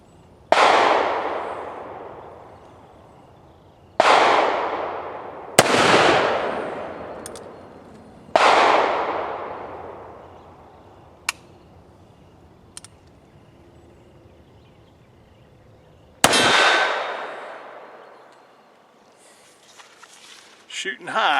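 An old Western double-barrel derringer fires several sharp, loud shots at a target at close range, spaced a few seconds apart, each ringing out with a decaying echo, and quieter clicks fall between them.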